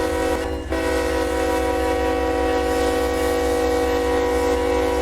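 Heavy phosphate freight train of just under 11,000 tons in Run 8 Train Simulator on the Fitzgerald Sub, a steady loud rumble of engine drone and rolling cars with a sustained horn blast running throughout, no talking.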